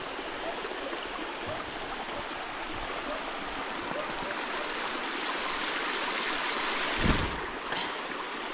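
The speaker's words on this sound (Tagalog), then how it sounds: "Pang-apat na sapa mga kainsan." A clear spring-fed stream flows through an underground river area in a forest, giving a steady, broad rushing wash of water throughout with one brief splash near the end.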